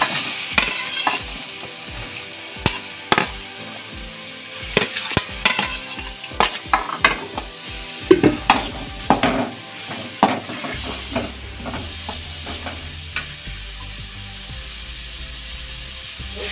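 Three large onions fry in a pan for a soyabean samosa filling, a hissing sizzle broken by regular scraping clicks of a spoon stirring against the pan, close and clear, later settling into a quieter, steadier frying.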